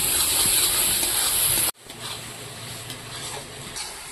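Stirring and frying of a spice paste with turmeric and hot chili powder in a pan while cooking duck egg curry, a steady loud sizzle that cuts off abruptly midway, then a quieter, softer frying hiss continues.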